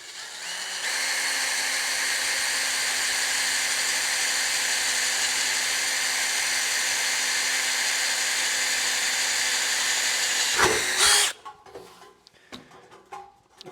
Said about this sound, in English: With every rotation of the drill bit, you want to be removing material.